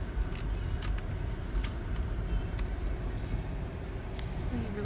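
Car driving slowly through a large, empty, nearly finished warehouse, with a steady low engine and tyre rumble that fills the space. Occasional faint clicks and rattles sound over it, and no one talks.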